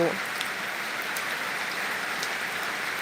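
Steady rain falls outdoors, a dense, even hiss of drops on surfaces that holds at a constant level for the whole stretch, with no talk over it.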